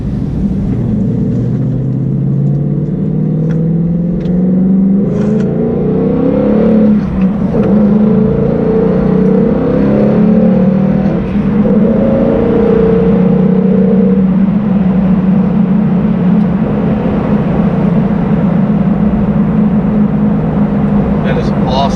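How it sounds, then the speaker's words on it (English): A 2018-2019 Ford Mustang GT being driven and accelerating, its engine note rising and sweeping through revs in a loud, continuous interior drone with a few brief tonal swells. "So now what I'm going to do is just drive around for a minute"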